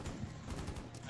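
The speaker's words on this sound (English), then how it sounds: "I heard bullets coming." Gunfire in Rainbow Six Siege, a dense burst of shots crackling throughout with a hint of talk underneath.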